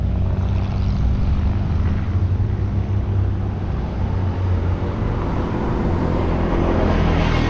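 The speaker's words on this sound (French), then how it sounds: "Il vient à peine de se poser, celui-là, que l'autre va atterrir." A propeller airplane landing at Saint-Barth airport on the Caribbean island, a loud, steady low engine drone that fills the whole clip, heard close with no talk.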